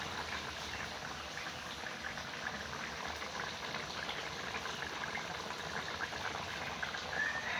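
Meat curry boiling in a pot, a steady continuous bubbling hiss, fairly faint and even throughout with no talk.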